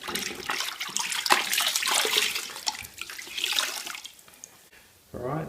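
Dirty cleaning water from washing Recaro seats with Woolite is poured into a bucket, a close, splashy gushing pour that fades near the end before a voice briefly begins.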